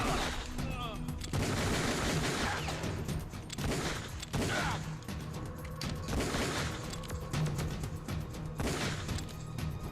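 Gunfire in the video game Metal Gear Solid: The Twin Snakes, dense bursts of shots and crashes running almost continuously and loud throughout, with a few heavier booms.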